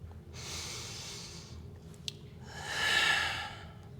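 Two long, breathy exhalations during a Pilates mat exercise, close and soft, each swelling and fading over about a second, with quiet background between them.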